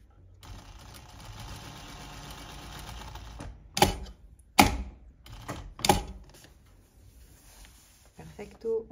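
A sewing machine stitching a pocket on a shepherd's vest, starting with a steady low mechanical hum, then sharp rattling bursts of stitching separated by pauses, close up, with a voice speaking at times.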